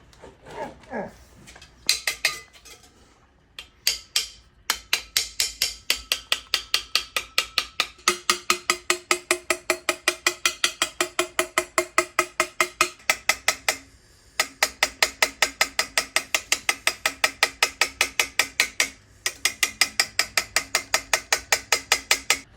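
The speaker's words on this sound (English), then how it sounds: "It's a burnishing effect on the tube to help round it out and get the high spots down." A brass bell tube from a 1903 cornet is burnished to round it out and flatten high spots, producing rapid, evenly spaced metallic clicks in long runs broken by a few short pauses, with faint talk early on.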